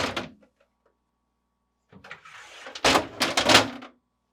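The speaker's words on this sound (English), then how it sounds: "Then, pull the drawers forward," Plastic crisper drawers of a GE refrigerator are pulled forward and lifted out, giving a short knock followed by a sliding scrape and a cluster of clattering rattles at close range.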